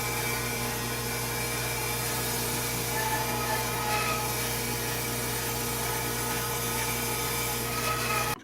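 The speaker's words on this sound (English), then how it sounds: "When resawing, a slow, steady feed rate is best with slight pressure towards the fence." A power saw resaws wood boards with a steady, unbroken mechanical hum and whine holding the same pitch throughout, fairly quiet, with no talking.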